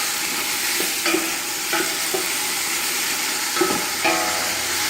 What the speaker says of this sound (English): The fennel is real sweet kind of smelling. Stir that up.